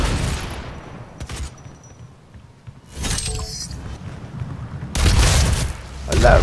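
Loud, broad explosive blasts from a rocket in the DOOM video game erupt in two bursts, with rumbling, crackling debris and faint voices in between.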